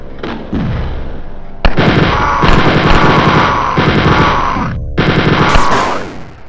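Enemy gunfire in the game Wolfenstein 3D, loud rapid bursts of machine-gun shots in several volleys with brief gaps between them, no voices.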